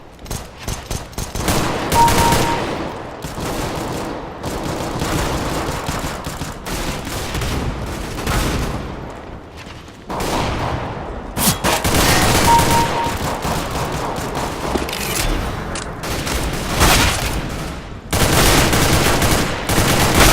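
Dense rapid gunfire from Counter-Strike: Global Offensive, with loud automatic bursts and repeated shots in clusters that keep going with brief pauses, close and sharp.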